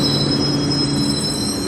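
A subway train runs with a loud, steady rumble and high wheel squeal throughout, heard from inside the car on a morning ride toward Yuquanlu station, with no voices.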